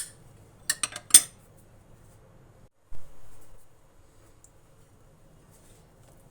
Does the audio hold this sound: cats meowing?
no